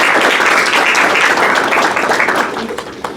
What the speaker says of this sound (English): So how about a round of applause for your parents and family?